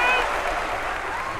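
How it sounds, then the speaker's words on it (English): A crowd cheers at an arena in Undermine in World of Warcraft, a loud, continuous wash of massed voices and applause, with a voice rising above it. "Oh, I could hear that crowd from all the way out here"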